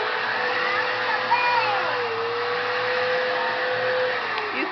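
A household vacuum cleaner runs continuously nearby, a loud steady motor whine with a faint shifting pitch as it is pushed around, with no pauses.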